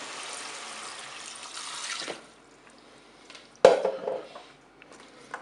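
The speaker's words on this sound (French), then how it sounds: "Allez, je vais verser mon bouillon." Broth poured into a Cookeo pot over spaghetti, carrots and peeled tomatoes, a soft liquid splashing stream that stops after two seconds, then a sharp clink of the pot and a few brief sloshes.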